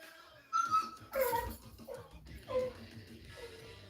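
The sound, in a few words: dogs barking and whimpering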